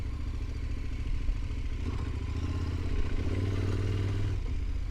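A motorcycle ridden through soft sand on a Moroccan trail: a steady, droning engine with rising revs and some clattering, heard from the rider's position without any talking.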